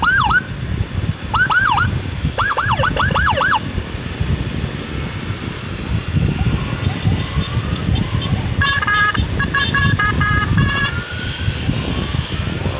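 Wailing ambulance siren sweeping up and down, then switching to a rapid yelp pattern, loud over a steady road rumble from a moving vehicle escorting an urgent patient.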